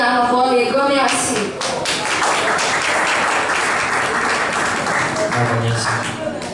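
An audience applauds Donald in a steady wash of clapping that follows the end of speech and continues under the voices that come back in.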